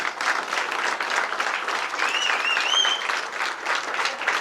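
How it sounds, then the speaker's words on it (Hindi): Audience applause at a corporate family event, loud continuous clapping from a crowd with a brief whistle or cheer cutting through in the middle. "हम सभी के लिए एक बार बेहतरीन तालियां होनी चाहिए।"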